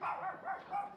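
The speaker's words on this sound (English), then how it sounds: "Dude, look at this dog." A dog gives a few short, yappy barks close by in a busy outdoor spot, three quick bursts within a second.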